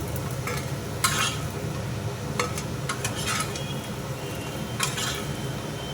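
Fried chickpea flour pieces are lifted from a sizzling pan, a continuous frying hiss punctuated by several bright metal scrapes and clinks of a utensil against the pan.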